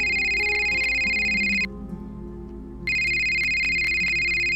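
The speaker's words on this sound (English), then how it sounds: "And then my phone rang." A mobile phone ringing with a bright, repeating electronic tone that plays, breaks off into near silence for about a second, then resumes, fairly loud and alone.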